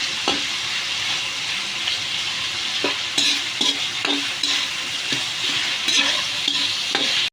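Ingredients for miki guisado sautéing in a pan over a high flame: a steady, close sizzle with repeated sharp spatula scrapes and taps against the pan throughout.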